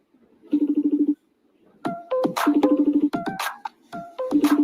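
A phone rings unanswered: repeated buzzing trills in short, evenly spaced bursts alternate with bright melodic electronic tones, close and clear, cycling over and over with brief gaps of silence.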